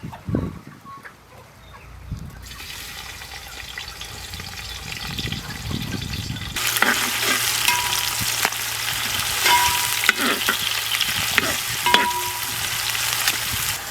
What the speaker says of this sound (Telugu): ఇలా నిలువుగా కట్ చేసుకున్న ఉల్లిపాయ ముక్కలు కూడా వేసుకోవాలి